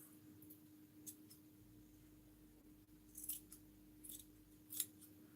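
Scissors snip through material while a vintage purse is made, cutting off a corner: a few quiet, crisp clicks spread over several seconds over a low steady hum, the sharpest snip coming near the end.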